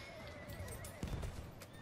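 In the Battlefield 1 video game, a horse gives a drawn-out whinny while hooves clop underneath, all set against dense, busy battlefield noise.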